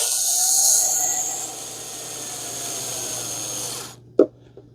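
A power drill runs a screw with a washer down into the carpeted trunk board of a VW Bug. It whines steadily and close for about four seconds, then stops, followed by a short knock.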